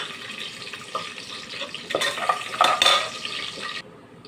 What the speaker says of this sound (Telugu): తర్వాత జీడిపప్పు వేసుకోవాలి.